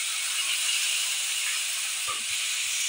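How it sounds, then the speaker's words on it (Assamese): Fish frying in a pan gives a steady, close, bright hiss that runs without a break, with a couple of faint soft knocks near the end and no talking. "মাছ ফ্ৰাই কৰি লৈছে"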